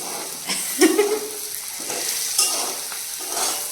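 Food frying in oil in a pan over raised heat, with a steady soft sizzle and occasional stirring scrapes, close by and without speech.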